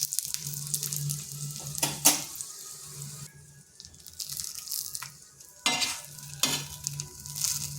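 Oil sizzles steadily as a paratha fries in a pan over medium heat, with a loud crackling hiss that swells when more oil goes onto the flipped side, broken by brief scraping stirs.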